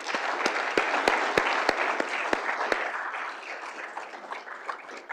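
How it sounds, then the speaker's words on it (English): An event audience applauds sponsors and volunteers with steady, full clapping and a few crisp individual claps early on, the sound gradually thinning out over several seconds. "please, please, please give our sponsors and all of our incredible volunteers a round of applause."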